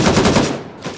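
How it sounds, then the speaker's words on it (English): Automatic AK rifle fire in the Gray Zone Warfare shooter game, a loud, close burst of rapid shots lasting about a second and tapering off, with one more shot at the end. "I'm gonna die for shooting an AK that was damaged."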